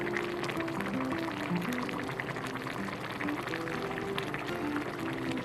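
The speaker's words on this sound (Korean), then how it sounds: "찌개가 보글보글 끓으면" Tuna and tofu stew bubbling steadily as it boils in a pot, a continuous close simmering with small pops and liquid gurgles throughout, no voices.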